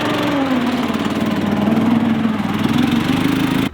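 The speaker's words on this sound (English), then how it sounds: "We are going up the hill on a giant lawnmower." Steady engine of a Briggs and Stratton ride-on lawnmower climbing a hill, a loud continuous drone with a low rumbling hum that holds throughout before cutting off abruptly at the end.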